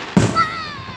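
An Independence Day fireworks show in Downingtown goes off with a single sharp bang followed by a short crackling, whistling tail, loud and fairly close.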